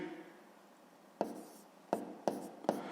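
Pen or chalk tapping out numbers during a sixth-grade math exercise, four crisp, close strokes after a quiet pause, the last three coming in quick succession.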